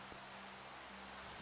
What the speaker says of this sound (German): Und es regnet schon wieder.